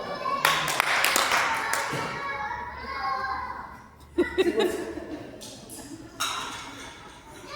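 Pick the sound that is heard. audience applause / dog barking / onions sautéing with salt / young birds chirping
audience applause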